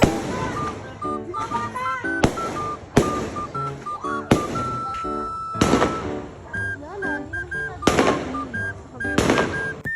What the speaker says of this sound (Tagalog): At maya maya nga po ay meron na nga po ulit fireworks